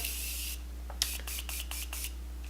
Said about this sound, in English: I'm gonna just spray it down with some Morphe spray